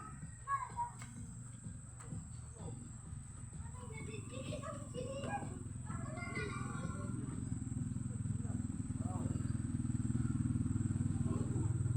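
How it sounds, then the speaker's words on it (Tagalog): A scooter approaches and passes on a street, its low engine drone steadily growing louder and nearer, with faint voices in the background. "Tingnan mo, scooter"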